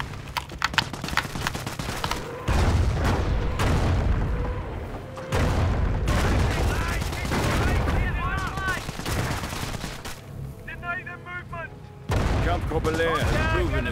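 Repeated bursts of gunfire and booming shots from a World War II real-time strategy game, coming in dense clusters with short lulls between them, mixed with game effects and occasional unit voice lines.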